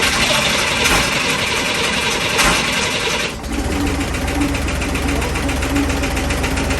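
A carbureted G-body car engine runs steadily, loud and close, with a dense mechanical clatter throughout and a brief dip in the middle; no talk.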